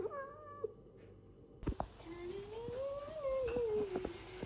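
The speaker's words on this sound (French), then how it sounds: "Le chat." A cat meows close by, first a short call, then a longer rising and falling meow, with faint clatter in the room.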